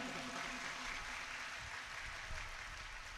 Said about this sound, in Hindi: आप सभी जोरदार तालियों से स्वागत करिए महंत जी का।